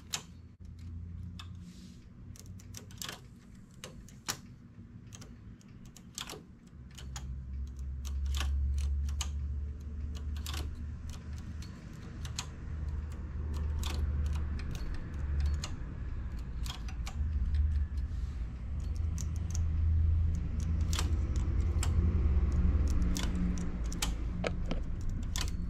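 A knitting machine runs rows on a knitted hat, its carriage giving steady rhythmic ticking and clacking over a low mechanical rumble that grows slightly louder, with no speech.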